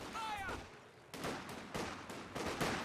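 Bursts of .50 caliber machine gun fire from a video game, sounding as repeated loud rattling volleys over a steady battle din, with some talk in the background.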